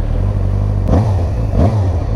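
A motorcycle engine starts and revs hard, with two rising roars over a steady low idle, loud and close with no talking.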